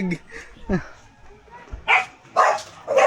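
Several sharp dog barks ring out at uneven intervals, fairly close, mixed with bits of human voice.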